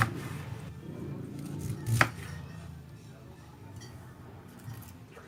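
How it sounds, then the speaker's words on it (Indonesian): A knife chops cabbage into large pieces while cooking buffalo-meat tongseng, with one sharp chop standing out against low background noise and soft clinks. "Lalu potong-potong juga kubisnya atau kolnya sesuai selera saja."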